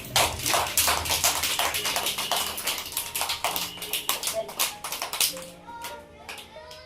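Children clap their hands together at an anganwadi centre, a ragged burst of many small palms striking in quick irregular bursts, close and fairly loud, with a voice and adult chatter mixed in.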